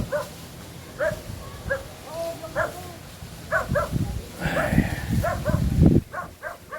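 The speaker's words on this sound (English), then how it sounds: "And my dogs are getting pissed off at them." Dogs barking at people during a corn harvest in the Philippines, a string of short sharp barks and yips in bursts with brief whimpers, fairly close, mixed with background rumble.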